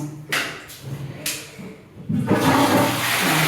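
A couple of sharp knocks, then a toilet flushes close by, its rushing water swelling and continuing steadily to the end.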